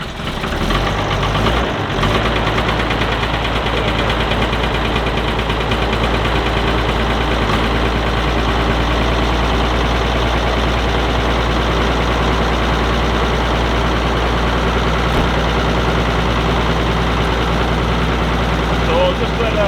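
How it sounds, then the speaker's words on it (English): A Ford TW25 tractor engine idles steadily while warming up, a loud, continuous low rumble with a constant tick-over rhythm that holds unchanged from start to finish. "So I'll just let her warm up a bit, I'll tick over"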